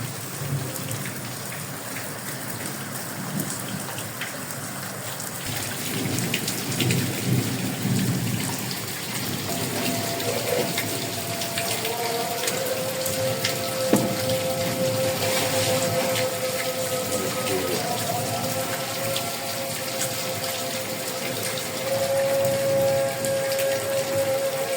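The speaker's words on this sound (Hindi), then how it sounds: "और बादल भी बहुत ज़्यादा गरज रहे हैं।" Heavy rain pours during a thunderstorm in Faisalabad. It gives a loud, steady wash throughout, with rolling thunder swelling midway and a distant tonal whine near the end, and no voices.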